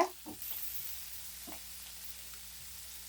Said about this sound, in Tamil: இப்போது வெங்காயம் ஓரளவுக்கு வதங்கிடுச்சு இப்போது தக்காளி பழம் ஆட் பண்ணிக்கலாம்